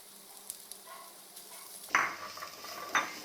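Mashed boiled potatoes go into a pan of fried garlic and ginger for a semolina breakfast and are stirred in. A faint low hum comes first, then two sudden metallic clinks and scrapes of a spoon against the pan.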